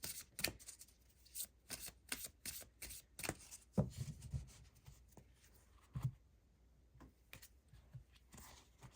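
Tarot cards shuffled by hand during a reading, a run of soft papery riffles and rubs with brief pauses between bursts, close and fairly quiet with no talking.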